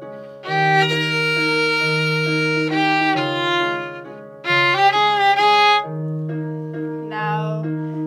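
The opening two phrases of a film soundtrack piece, played as a sustained melodic line over a steady low held note, clear and close with no talking.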